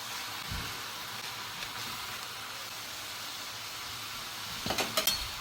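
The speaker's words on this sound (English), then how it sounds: "So while this ground beef is cooking up" Ground beef frying in a pan, a steady soft sizzle running throughout, with a few brief scraping stir noises near the end; no talking.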